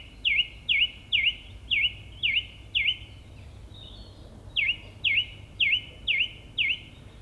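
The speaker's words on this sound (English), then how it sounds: "With spring arriving, I finally managed to film a song thrush in song." A song thrush sings nearby in spring, repeating a short bright whistled phrase about ten times in steady succession, with a brief pause midway before the run resumes, over a low background rumble.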